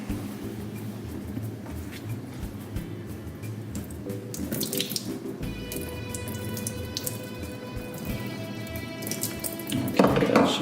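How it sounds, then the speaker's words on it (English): A tortilla is soaked under a running kitchen tap, with steady splashing faucet water throughout, a brief bright clatter near the middle and louder splashing toward the end. "I basically want to soak the tortilla in water"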